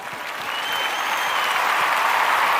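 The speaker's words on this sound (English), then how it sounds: "Give them a round of applause." An audience bursts into applause, the clapping building over the first half second into a steady, full wash of hands that holds to the end.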